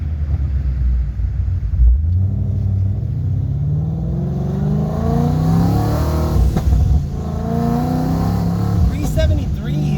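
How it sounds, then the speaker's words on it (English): A supercharged S197 Ford Mustang engine with an MT82 manual gearbox rumbles and revs with rising harmonics, a faint supercharger whine on top, close and steady throughout. "Definitely more noticeable supercharger noises, as you can tell."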